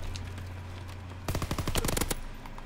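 Rapid burst of automatic gunfire from Call of Duty WWII, a tight string of sharp cracks after a quieter low hum, loud and close.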